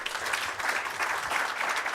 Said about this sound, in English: Let's give him a hearty clap.